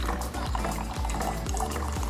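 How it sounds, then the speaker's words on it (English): A Keurig coffee machine runs vinegar through its brewer during cleaning, giving a steady loud liquid pouring and gurgling sound with a low pump pulse repeating about every half second, with no voices. "it's going to run that vinegar through the machine."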